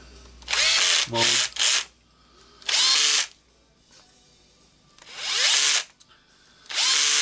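Makita BDF456 cordless drill driving screws into a soft plastic housing, heard in four or five short whirring bursts that rise and fall in pitch, loud and close, with a brief spoken word between them.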